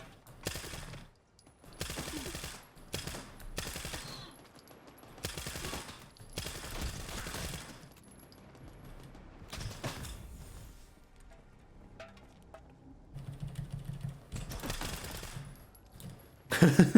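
Full-auto submachine gun fire in Stalker 2: a series of separate, loud automatic bursts of varying length, divided by short quiet gaps and occasional mechanical clicks of handling.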